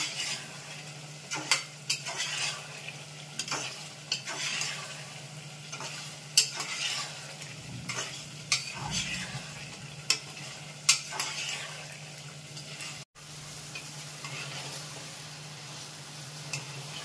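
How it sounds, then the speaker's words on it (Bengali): Mutton pieces with spices being stirred and sautéed in a hot pan, a steady sizzle broken by repeated scraping strokes of a spoon against the metal. "এবার আমি ভালো করে কষিয়ে নেব"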